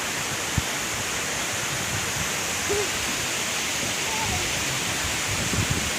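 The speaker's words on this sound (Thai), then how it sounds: "ข้างบนก็จะมีน้ำตกอีกหลายชั้น" Tat Kuang Si waterfall near Luang Prabang, Laos, a steady dense roar of falling water close by, filling the whole clip evenly, with a few faint tonal sounds that might be distant voices.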